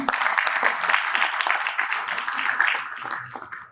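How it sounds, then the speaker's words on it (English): A design-event audience bursts into steady, dense applause, many hands clapping close and loud for a few seconds before tapering off at the end. "So a round of applause for Mohit ji."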